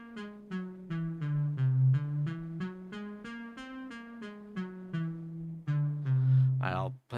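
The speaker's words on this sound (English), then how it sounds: "So again, we go and can play just whole steps instead of half steps, and that sounds like this." Whole tone scale played note by note in whole steps, apparently on a piano, an even run of about a dozen distinct notes climbing and descending, clear and close, ending with a short sung or voiced note.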